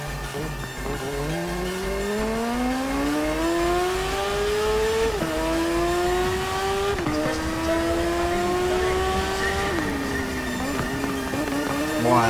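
Motorcycle engine racing in the TT Isle of Man video game, a loud continuous high revving whine climbing through the gears with sharp shifts, steady and close with no talk.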